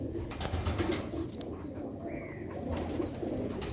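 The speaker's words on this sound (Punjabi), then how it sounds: "ਇਹ ਸਿਲਵਰ ਗ੍ਰੇ ਛੱਤ ਵਾਲਾ ਕਬੂਤਰ ਹੈ" A silver-grey Sialkoti rooftop pigeon coos softly in a loft, low repeated murmuring coos under faint background hiss and a few distant chirps.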